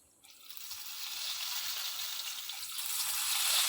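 Bonda fritters of batter drop into hot oil, setting off a steady, broad sizzle that swells and grows louder as more go in, with no voices over it.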